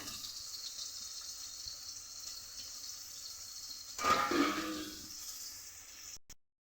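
Water splashes briefly into a mixer grinder jar for a chicken spice paste, a short close pour rising suddenly over a faint steady background hiss, then cutting off.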